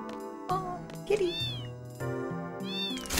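A cat meows twice in the video game Final Fantasy VIII, each a clear rising-and-falling cry, close and distinct, with game music and a low voice beneath.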